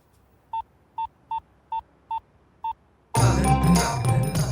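Six evenly spaced touch-tone dialing beeps from a phone, each short and clear against quiet, before a sudden burst of loud, busy background noise takes over.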